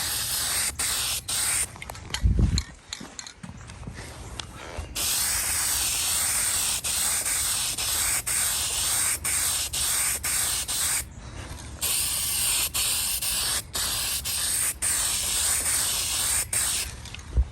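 Gold spray paint hisses onto a 1950s Sears Dunlap drill press in long, loud, close bursts, with a few short pauses between passes and no speech.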